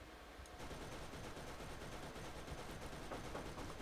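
Rapid turret machine-gun fire from the Borderlands video game on PC, a dense, continuous rattle of shots that starts about half a second in and keeps pounding steadily, loud and close, with no voices over it.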